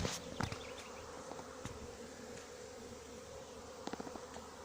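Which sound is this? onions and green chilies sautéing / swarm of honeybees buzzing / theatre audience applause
swarm of honeybees buzzing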